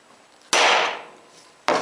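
A center punch is struck into blue anodized aluminum to mark a drilling spot, giving one sharp, loud metallic strike with a brief ringing decay and a second hit starting at the very end.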